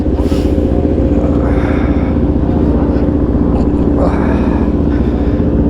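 A stunted Suzuki DRZ dirt bike roars close by during a quick test ride with a couple of wheelies, its engine buzzing loudly and continuously with brief revving surges, while voices are faintly heard under the noise.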